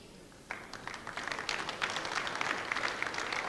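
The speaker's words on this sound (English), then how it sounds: "there's some scattered applause" Scattered applause breaks out from a crowd at a 1985 Superbowl match after a brief quiet start, then a soft, steady spread of clapping continues, distant and low in level.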